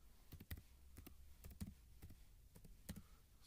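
Keys on a computer keyboard being typed in short irregular bursts while entering a web address, fairly faint with a quiet room hum underneath and no talking.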